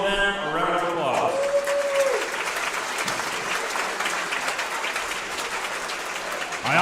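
A round of applause fills a wrestling tournament venue, dense steady clapping from a crowd carrying on for several seconds after a brief voice at the start.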